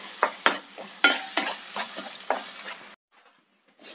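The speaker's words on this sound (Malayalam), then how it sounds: "തീ കുറച്ച് വെച്ച് വടച്ചെടുക്കണം." Tomatoes sautéing in a pan over a low flame for white chickpea curry, with repeated close stirring scrapes over a steady sizzle for about three seconds before the sound cuts to near silence.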